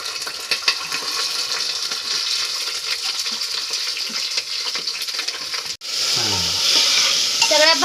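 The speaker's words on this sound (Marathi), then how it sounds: "सगळ्या भाज्या छान आपण तेलात अशा परतून घेऊ" Mixed vegetables sauté in hot oil with cumin, garlic, chilli and curry leaves for a green moong dal khichdi, a steady close sizzle with scraping stir strokes throughout and a brief pause near the end.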